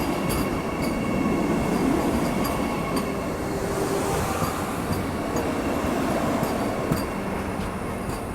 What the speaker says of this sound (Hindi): ये मेरे ख्याल से कासरगोड वंदे भारत है जो कि बिल्कुल क्रॉल करते हुए आगे आ रही है